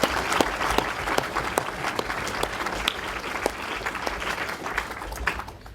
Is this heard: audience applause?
yes